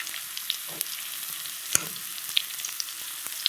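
Spiced catla fish batter gets stirred in a hot pan, a soft continuous sizzle and fry broken by sharp scraping clicks of the spoon against the pan at irregular intervals, with no talk.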